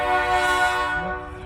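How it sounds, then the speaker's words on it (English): A train horn sounds a sustained, loud multi-tone blast through the whole moment, with rumbling rail noise beneath, on a street of small bungalows and large buildings in Whitehall, Montana. "there comes the train"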